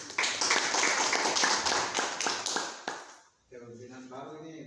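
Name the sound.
audience applause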